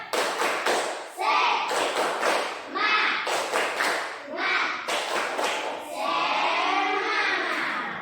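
A classroom of children doing a rhythmic spirit clap, tepuk semangat: loud patterned bursts of group clapping with short pauses between them, and children's voices chanting along between and over the claps.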